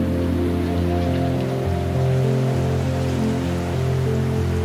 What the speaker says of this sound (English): So we covered up and headed out into the rain.